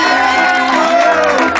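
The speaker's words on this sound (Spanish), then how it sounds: "ese aplauso para la embajadora" Festive crowd at a vela muxe celebration in Salina Cruz, Oaxaca, cheering and shouting for an ambassador, a loud, dense burst of voices close by.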